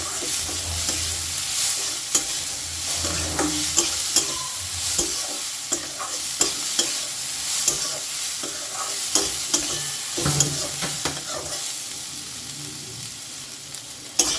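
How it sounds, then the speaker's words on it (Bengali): Red lentils frying in a pan, stirred with a utensil: steady close sizzle with repeated scraping and clinking strokes throughout, no talking. "ডালটা খুব ভালো করে ভাজা হয়ে গেছে"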